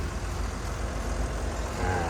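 A six-cylinder turbocharged engine in a 2015 Komatsu WA380-7 wheel loader runs steadily, giving a continuous low rumbling drone at moderate level throughout, with no distinct changes in pitch.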